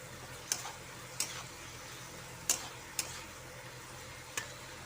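Potatoes and eggplant frying with salt and spices in a pan for a puti fish curry: a soft, steady sizzle with a few sharp clicks of a utensil against the pan, fairly quiet and with no voices.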